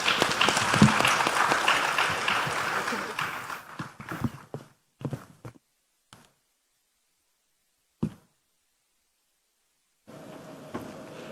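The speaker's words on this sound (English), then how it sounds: "Please give them a hand of applause, our moderators and panelists." Audience applause for moderators and panelists at a health leaders' gathering in Accra, dense clapping for about four seconds that thins into a few scattered claps, then quiet before a low murmur returns.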